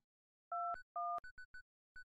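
A telephone in the Paper Lily video game gives two steady two-note tone bursts, followed by a few short electronic beeps like dialing keys. The sounds are clean and isolated against silence.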